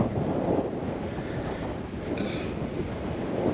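Wind sweeps across a beach in a steady, moderate rush with microphone buffeting and a faint wash of surf underneath, and no one speaks.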